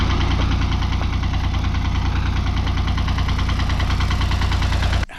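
A parked farm tractor's engine idles steadily and loudly at close range with a rough, knocking rhythm, running unbroken for about five seconds before cutting off abruptly.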